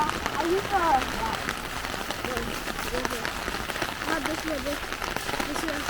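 Rain patters steadily on the ground and an umbrella during a walk by a pond in San Diego, a close, dense hiss with footsteps mixed in, while people talk softly over it.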